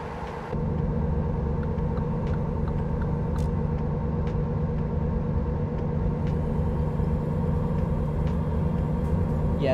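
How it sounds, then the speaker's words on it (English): Video-game Volvo semi-truck engine droning steadily under full throttle on a European highway drive, a continuous loud low rumble with a faint whine, no talk. "Yes, this is a semi-truck"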